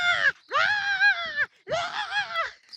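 A person's voice imitates a cockatoo, giving two loud, harsh, screechy calls separated by a short pause, close by, during a camping trip.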